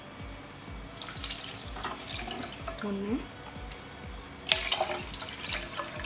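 Water is poured in a steady stream with splashy bursts, fairly close, while making lychee pudding, under soft kitchen clatter and a brief spoken word.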